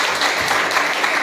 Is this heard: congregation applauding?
yes